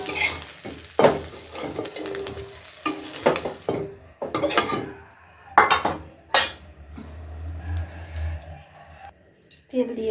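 Fried fish and potatoes are shifted around in a hot oily pan, giving repeated scraping and clattering strokes over a steady sizzle, with a few sharper metallic knocks of the utensil against the pan.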